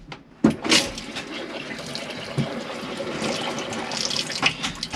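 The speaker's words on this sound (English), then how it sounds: "you have got your hot water there, and that water is really warm as it's starting to make its way through" Hot water runs from a tap in a Bailey Autograph 79-4 campervan, a steady splashing stream with brief louder gushes and clatter as the flow settles, close and alone.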